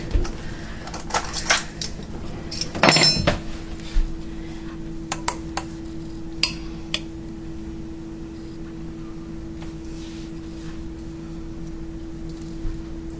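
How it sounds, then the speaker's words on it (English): Metal spoons clink and scrape against a mixing vessel, with a cluster of bright knocks early on and sparse lighter taps afterward over a steady low hum. "let me grab 2 spoons"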